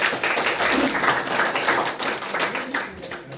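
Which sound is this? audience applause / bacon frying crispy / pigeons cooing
audience applause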